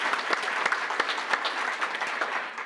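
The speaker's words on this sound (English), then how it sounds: "Another round of applause for our 2023 RAYAC Board of Directors and Officers." An audience applauds the 2023 RAYAC Board of Directors and Officers at an awards and installation event, a steady wash of many hands clapping with sharper individual claps standing out.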